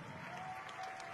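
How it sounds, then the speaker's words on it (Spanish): Audience applause at the launch of a regional health caravan event in Coahuila's Laguna region, a steady even wash of clapping lasting about a second, moderately distant, with a faint sustained tone running through it. "Fuerte el aplauso, por favor."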